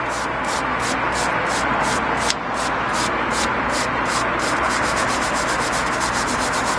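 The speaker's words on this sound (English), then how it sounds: "we'll take the brass wire brush and just give it a little clean before we reinstall it" A brass wire brush scrubs a rear brake bracket on a Peugeot 207 in quick, regular back-and-forth strokes, a close, loud, rasping scratch that continues steadily with no talk.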